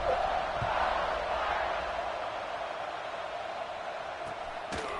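Stadium crowd in an American football video game roars in a broad, steady wash after a scoring drive, loud at first then easing slightly, with a couple of brief thumps near the end.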